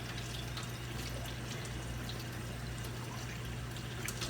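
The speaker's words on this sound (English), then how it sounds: "Okay, running water through it again." Water running through an electric milking machine during cleaning, a steady hiss and trickle with a constant low hum underneath, continuous and close for the whole stretch.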